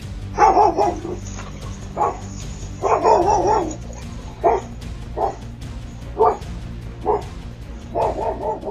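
A dog barks repeatedly and loudly at close range, a steady series of sharp woofs spaced about a second apart, with no talk.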